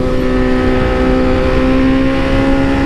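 A BMW S1000RR sport bike engine in race mode holds a loud, steady high-pitched drone up close during a ride, with no voices over it.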